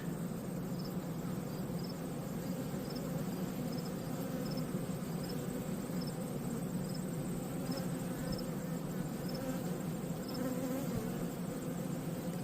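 A steady, dense buzz of many honeybees swarming around a hive and its queen during a hive inspection, continuous and close, with no pauses.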